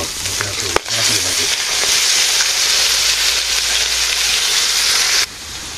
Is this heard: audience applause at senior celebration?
no